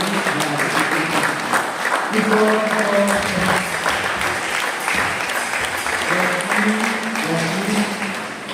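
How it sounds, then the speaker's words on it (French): Congregation applauding during a worship service, a steady wash of clapping throughout with voices and tonal music or singing running underneath. "Applaudissez le Seigneur, la présence de Dieu."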